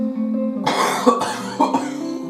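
A single harsh cough breaks in, followed by a couple of shorter throaty coughs over a steady low hum.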